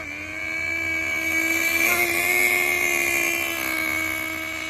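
A Thunder Tiger Tomahawk nitro RC truck engine idles with a steady, high-pitched buzzing whine and harmonic tones, swelling slightly midway, fairly close and alone.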